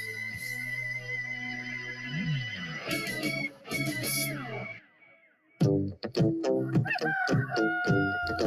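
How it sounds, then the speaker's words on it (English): A rooster crows in a radio show opening, its drawn-out call mixed with music and sound effects, followed by a loud, choppy stretch of rhythmic effects. "If the rooster's crowing, it's time for Marty and McGee."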